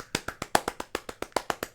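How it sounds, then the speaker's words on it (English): Applause for the rapper during a cypher, heard as a quick run of about a dozen evenly spaced sharp claps, fairly close and moderately loud, with no talking. "Let's just give him a round of applause."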